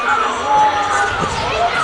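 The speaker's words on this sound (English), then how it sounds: "Dang, the South crowd saying that was in." Lakeville South fans at a girls hockey game against Northfield, a crowd erupting into a loud burst of shouting and cheering in an arena, with a commentator talking over it.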